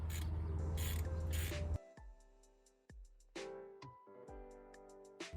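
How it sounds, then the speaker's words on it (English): A half-inch ratchet wrench tightens a lock washer and nut on a tractor hydraulic kit bracket, giving several short bursts of close, metallic ratcheting clicks separated by brief pauses, with a ringing tone after each stroke. "Those tighten up with a 1/2-inch wrench and backer."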